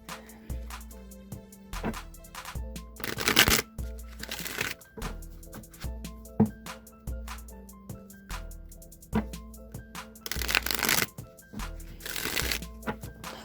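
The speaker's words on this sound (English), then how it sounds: "let's go ahead and shuffle the Rider-Waite deck to give these a few shuffles" Rider-Waite tarot deck being shuffled by hand, with repeated riffling card bursts and soft shuffling between them, close and clear with no talking.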